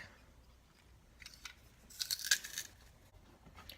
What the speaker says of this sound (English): Gonna go ahead and crush the garlic.